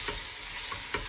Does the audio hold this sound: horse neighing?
no